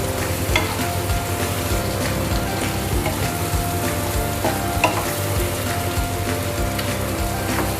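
Raw banana slices fry in a pan with a constant loud sizzle and crackle, broken by the scrape and clatter of stirring, all continuous and close with no talking.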